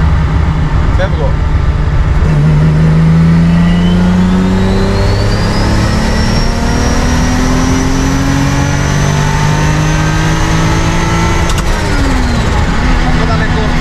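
A Toyota Supra MK4 with a 2JZ engine and GT45 turbo revving hard, its loud rising engine note climbing repeatedly to the rev limiter with turbo whine, close and continuous, with a voice over it.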